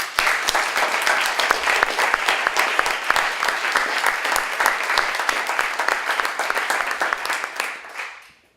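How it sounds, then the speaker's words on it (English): A conference audience at a resilient-cities event breaks into dense, sustained applause, loud and even for about eight seconds before it tapers off at the end. "I would like a big round of applause for them."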